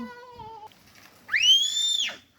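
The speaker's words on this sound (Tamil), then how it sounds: "முடி விசிலா வாய்க்க வச்சிருக்க?" A whistle blown by mouth gives one loud, rising then level shrill note lasting under a second, close by, after a brief moment of voice.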